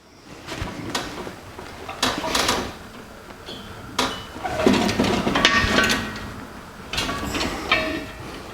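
Sheet metal for a 1949 Chevrolet gasser's trunk floor panel, bent by hand around a welding tank cylinder, gives irregular clanks, scrapes and metallic rattles over a steady shop background.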